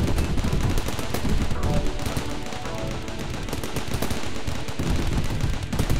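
Automated defense turrets in the colony-building game Rimworld firing in a dense, continuous barrage of rapid gunfire, loud and sustained throughout with no talking.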